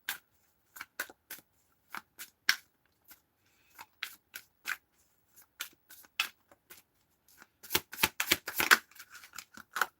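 A deck of cards is shuffled in crisp, irregular bursts of riffling clicks, sparse at first and then a dense flurry near the end, close and fairly quiet with no one talking.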